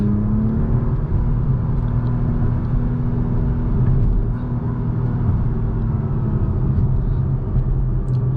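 2024 Acura TLX Type S with super handling all-wheel drive turning into a corner, a steady loud engine and road rumble heard from inside the car, with no talking.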